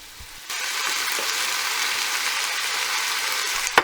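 Ground meat fries over high heat in a pan, a dense, even sizzle starting suddenly and holding steady close by, ending with a sharp metallic clank.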